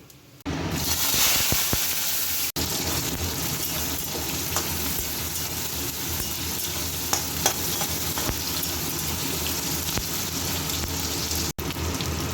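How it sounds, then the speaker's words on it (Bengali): Chopped onion and tomato sizzle steadily in hot oil tempered with cumin, bay leaf, dried chilli, cardamom and cinnamon, a dense continuous frying hiss in a home kitchen while a jackfruit curry is cooked, with no voices. "পেঁয়াজ আর টমেটো লাল করে ভাজা হয়ে গেছে"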